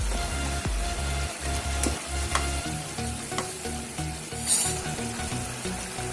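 Chili powder goes into a hot pan of frying food, giving a steady close sizzle with stirring scrapes and occasional clinks, no voices present.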